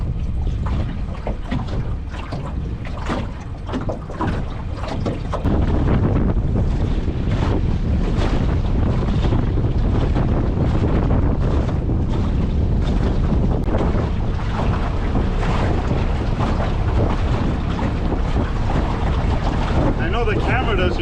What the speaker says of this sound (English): So the wind's still picking up by the minute.